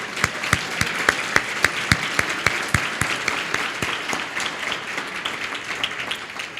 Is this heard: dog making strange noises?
no